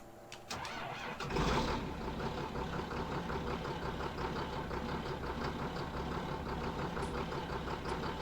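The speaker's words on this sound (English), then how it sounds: "I love the sounds that they put on this tractor" Tractor engine in Farming Simulator 19, a 4850 model: a short mechanical clunk, then the engine catches with a brief rev and settles into a steady, rumbling mid-pitched idle, close and continuous, no talk.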